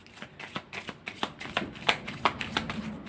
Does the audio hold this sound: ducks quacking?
no